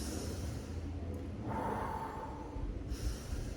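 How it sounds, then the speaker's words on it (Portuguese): A person inhales during the lowering phase of an exercise movement, a soft, close breath drawn in through the nose and mouth, rising briefly in the middle of a quiet stretch. "Eu faço a inspiração na fase excêntrica"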